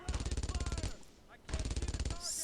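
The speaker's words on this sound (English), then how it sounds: "Yeah, the machine gun's in there." A machine gun fires in the World War II video game Brothers in Arms: Road to Hill 30, in two rapid rattling bursts with a short pause between them. Both bursts are close and loud.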